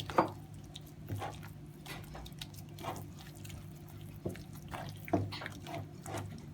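Wet squishing and dripping sounds come in a few separate bursts as grated coconut soaked in water is squeezed by hand to extract coconut milk, with liquid trickling down in between.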